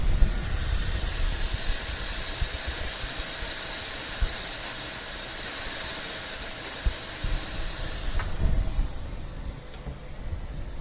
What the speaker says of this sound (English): turn the vacuum on manually